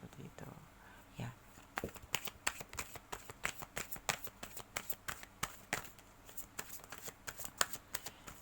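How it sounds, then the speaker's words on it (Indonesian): Tarot cards being shuffled and spread by hand, a rapid run of crisp riffling snaps and slaps close up, faint room noise underneath. "Oke, kita akan lanjutkan menebar kartu."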